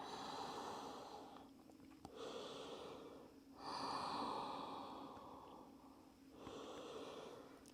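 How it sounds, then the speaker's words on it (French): Slow, soft breathing during the yoga child's pose, long inhales and exhales alternating at an unhurried pace, faint and close with no speech. "Et prends un instant pour respirer."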